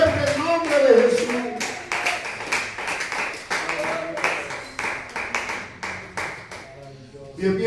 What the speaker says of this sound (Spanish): Aplauda fuerte el nombre de Jesús